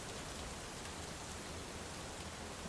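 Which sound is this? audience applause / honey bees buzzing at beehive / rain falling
rain falling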